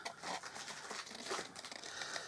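A dog rustles and crinkles a lolly wrapper, producing steady, close, papery crackling bursts throughout with no talk.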